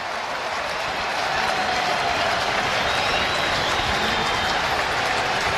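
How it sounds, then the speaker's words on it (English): A big crowd cheers at Yankee Stadium during an AL Wild Card Game 3 between the Red Sox and Yankees, a dense, sustained roar of voices and applause filling the ballpark without letup. "Crowd on its feet all over Yankee Stadium"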